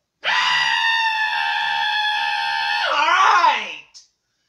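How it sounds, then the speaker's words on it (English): A single long, loud, high-pitched scream by a cave witch character, sustained for about three seconds before breaking into a warbling wail and cutting off. "You want to hear an annoying scream?"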